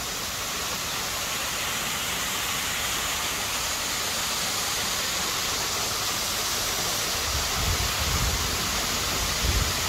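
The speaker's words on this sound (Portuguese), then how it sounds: "filmando essa cachoeira ali" Steady roar of a waterfall at Buraco do Padre, Ponta Grossa, Paraná, a dense wash of rushing water that stays constant throughout, with a few low rumbles near the end.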